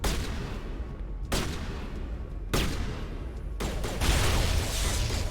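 Gunfire in Mass Effect Legendary Edition, with three separate bursts of loud, broadband shots about a second apart and a denser volley near the end, held under a steady background roar with no talk.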